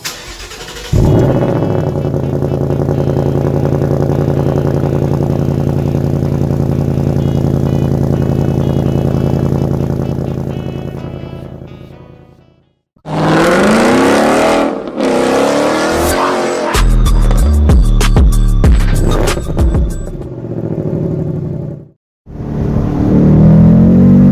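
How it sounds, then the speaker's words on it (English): A 2018 Ford Mustang GT engine cranks and catches on a cold start, then idles loudly with a steady rumble, cuts off, and revs hard in several sharp bursts before idling again. "So first, let's do a cold start."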